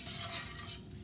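A spoon scrapes and swirls through caramel apple dip of brown sugar and sweetened condensed milk in a pan over medium-high heat, one brief continuous stir with no voices.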